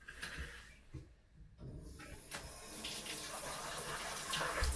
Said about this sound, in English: really likes to drink from the faucet now